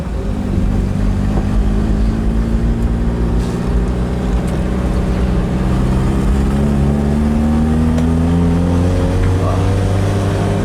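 A Chevrolet Chevette engine hums steadily inside the moving car while the driver shifts gears on a slight uphill, the loud continuous drone changing pitch as the gear changes and the revs rise.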